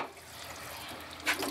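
Water runs and splashes as frozen tilapia is put into it, a steady trickling wash with a brief louder splash near the end, close by.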